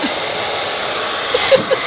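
A steady, close whooshing hum of a heat gun runs without a break, with a few faint clicks and light knocks near the end.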